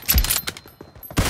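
Kar98 rifle fire in a video game team deathmatch: a few sharp, loud gunshot bursts in quick succession, separated by short gaps.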